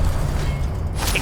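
Expelliarmus spell cast in the video game Hogwarts Legacy, a loud low rumbling burst with a whooshing swell and a bright magical shimmer near the end, brief and without talk.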